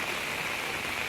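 Heavy rain falls steadily in Jammu, a dense, even hiss of downpour with no breaks across a short stretch.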